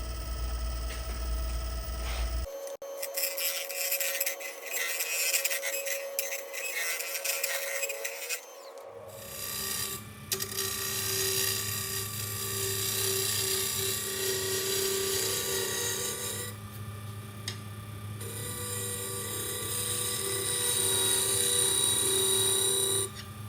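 A wood lathe spinning at about 1100 RPM as a Carter & Sons half-inch bowl gouge cuts a segmented bowl of scrap and pallet wood, giving continuous close scraping and rasping with shifting tone and no talk.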